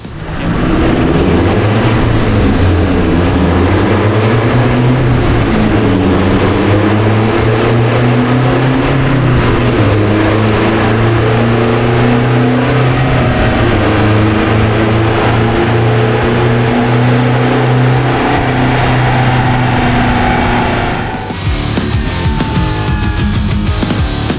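A car with a DIY plastic water-spray intercooler, run without water spray, accelerating hard through the gears on a test drive, its loud engine drone climbing in pitch several times and dropping at each shift, up close with no talk.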